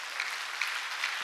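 A church congregation claps during a Sunday sermon, a brief, soft, continuous patter of applause with no voices over it.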